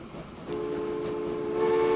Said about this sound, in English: There goes our train 5 up there.